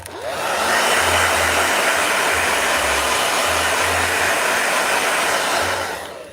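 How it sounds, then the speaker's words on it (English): Handheld blow dryer drying a watercolor sketch on watercolor paper, switching on with a loud, steady whooshing hum that runs continuously and alone before winding down at the end. "let me just do a quick blow dry. Blow dryer."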